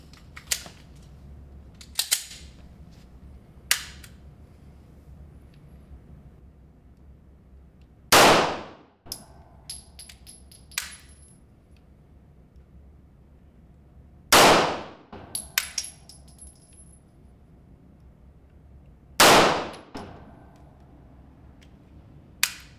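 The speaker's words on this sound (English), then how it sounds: "I'm going to start out just firing the 9-round magazine. I'm going to shoot it strictly in the double action mode" Springfield XD-e 9mm pistol fired in double action mode, three loud sharp shots spaced several seconds apart, with small metallic clicks and handling noises in between.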